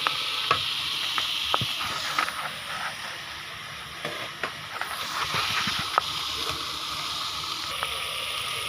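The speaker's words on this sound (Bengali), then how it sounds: "এটাকে কষায় নিই।" Curry masala fries in a pan with a steady hiss and sizzle, while a utensil stirs and scrapes it in scattered taps and clinks, close and moderately loud.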